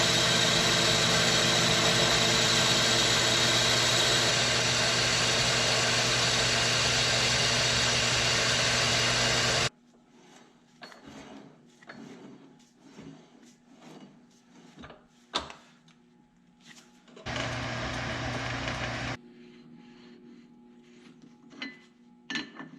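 A metal lathe spindle spins a vintage four-jaw chuck during a light dust cut, starting with a loud, steady mechanical hum that drops off abruptly, then fainter clunks and rattles with one more brief burst of running.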